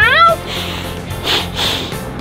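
A human voice imitates a bobcat's meow at a baseball stadium: a short, rising-falling meow at the start, followed by soft background hiss and faint crowd noise.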